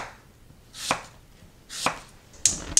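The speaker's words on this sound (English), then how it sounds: "And then you can slice your apples from that." Knife slicing through apples on a cutting board, three to four crisp, separate cuts with the blade knocking the board, close and clear with quiet pauses between.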